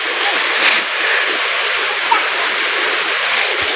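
A small river flowing through rural countryside where cattle come to drink, giving a steady, broad rushing wash of water that stays even and close throughout with no talk over it.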